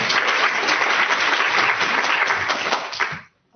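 An audience at a nutrition talk claps steadily and fairly loudly for a few seconds before the applause cuts off abruptly into silence.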